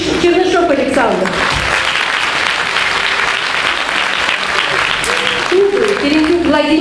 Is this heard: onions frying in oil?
no